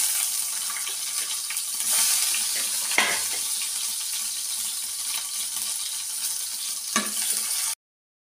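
Mustard seeds and onion sizzle and crackle steadily in hot oil in a pan, a dense close frying hiss with occasional stirring knocks, until it stops abruptly.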